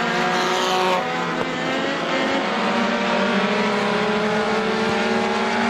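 Race cars speed past on an oval speedway in a roadrunner heat, engines wailing loud and close in a sustained, layered high-pitched whine with shifting pitch as they pass.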